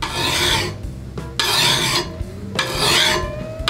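Hand file rasping across a steel lawnmower blade in three long, loud strokes separated by short pauses, a harsh metallic scraping close up with no voices.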